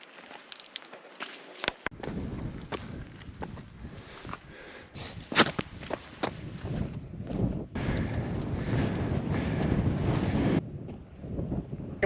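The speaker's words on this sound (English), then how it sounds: "It's windy." Strong wind buffets the microphone in steady roaring gusts throughout on the summit of Mount Mansfield, Vermont, loud and close, with brief sharper bursts and no talking.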